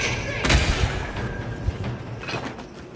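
Gunfire in the video game Avowed, a loud burst of heavy shots and thumping impacts up front, followed by scattered further reports and rumbling battle noise.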